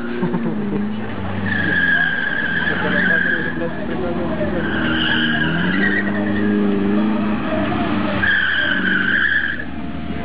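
A car's tires squeal and skid repeatedly around a slalom course while the engine revs hard, with a voice talking over the noise.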